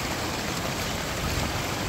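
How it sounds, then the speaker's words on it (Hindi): A small waterfall pours steadily in a rugged ravine, a dense continuous rush of flowing water filling the space, close and fairly loud with no voices. "देखना। Mini waterfall."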